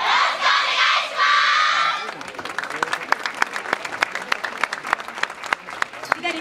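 A crowd shouts and cheers loudly at a yosakoi dance performance in Japan, then settles into scattered, sharp claps that continue to the end.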